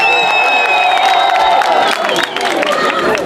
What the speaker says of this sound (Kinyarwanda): tumongera amashyi menshi cyane please